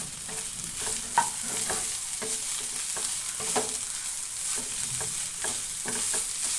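Chicken stir-fries in oil with garlic and ginger, giving a continuous close sizzle punctuated by regular scraping strokes of a spoon against the pan.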